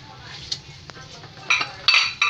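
Plates and dishes are handled in a home kitchen, with several sharp clinks and clatters, the loudest near the end, over a quiet room background.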